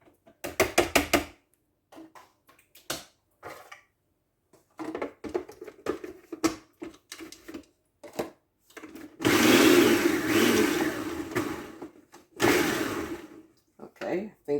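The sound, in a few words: food processor chopping lasagna ingredients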